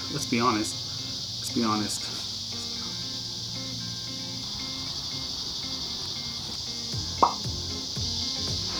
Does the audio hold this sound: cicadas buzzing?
yes